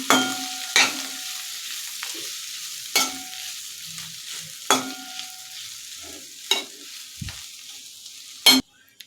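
Boiled potatoes being mixed into misal in a pan: a low simmering sizzle with about seven sharp spatula knocks and scrapes against the pan at irregular intervals, close and distinct.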